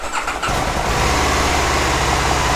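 An Aprilia Caponord 1000 ETV motorcycle engine starts with a brief starter crank, then catches and settles into a loud, steady close-up idle.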